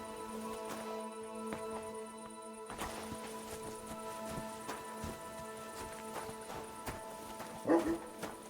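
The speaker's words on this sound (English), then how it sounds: "What's all that barking for?" A dog barks in the video game Kingdom Come Deliverance 2, faint bursts under a steady ambient game soundtrack with occasional hoof-like clops and a louder bark near the end.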